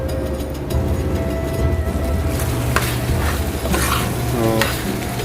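Chicken hearts going into a pan of browned ginger paste, a continuous loud sizzle with scraping stirs and clinks of a spatula, no voices.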